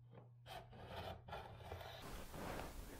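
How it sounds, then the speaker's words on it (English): A contour scraper rasps across an old painted surface in a room, steady rubbing scrapes in close, repeated strokes with no voices. "I got a contour scraper."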